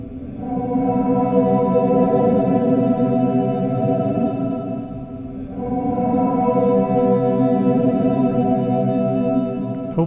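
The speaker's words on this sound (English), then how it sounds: "So it's ramping from here to the bottom. Let's make it a little faster." A MOOD effect pedal processes a recorded guitar loop, with a sweeping modulated effect ramping downward, creating a dense, chorus-like wash of sustained tones that swells, dips briefly midway, then returns loud and steady.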